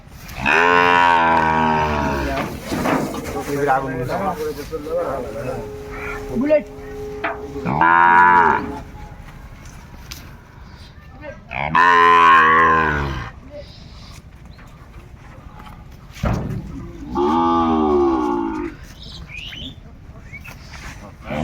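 Sahiwal bull calves on a farm give repeated loud, drawn-out moos at intervals, several bellows close by with quieter gaps and faint background noise between them.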